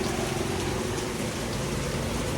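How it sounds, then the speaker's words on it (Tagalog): Steady rain falling with dense, even patter of raindrops on surfaces, continuous and moderately loud with no voices. "Nakatingin sa patak ng ulan."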